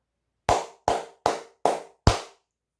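Five sharp, close hand claps in an even, deliberate rhythm, each ringing briefly before silence returns, with no other sound between them.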